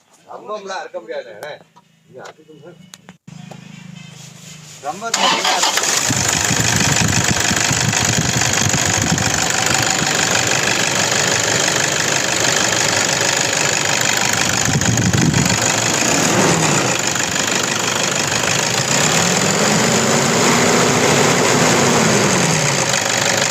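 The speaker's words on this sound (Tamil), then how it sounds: "இப்போ இன்ஜினை நம்ம ஸ்டார்ட் பண்ணிடுவோம்" A 2015 Toyota Innova's engine cranks and catches after a few seconds of voices, then settles into a loud, steady idle that runs on close by for the rest of the stretch.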